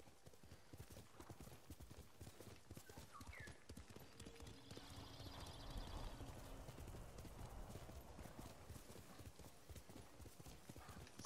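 Horse hooves clip-clop steadily through the whole stretch in the game Ghost of Tsushima, a continuous rhythmic trot at moderate loudness with a brief whinny and faint ambient game sounds.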